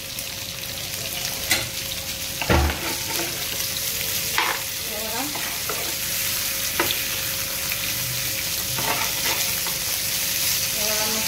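Green tandoori chicken sizzles in a pan at home while being flipped, a continuous loud frying hiss with a few sharp utensil knocks and scrapes.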